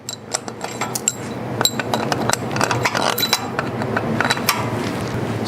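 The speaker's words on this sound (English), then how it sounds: "We've got all of our bolts lubed up, so we're just going to drop them in real quick." Lubed bolts clink and rattle as they are dropped one after another into LS engine valve covers, a quick run of bright metallic ticks and small knocks, close and fairly loud, with no voices.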